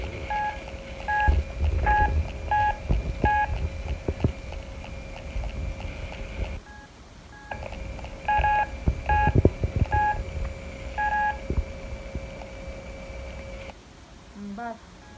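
Repeated mobile phone keypad tones beep in short, evenly spaced bursts over a steady dial hum, cutting out once and then resuming, with a person talking throughout and rustling handling noise underneath.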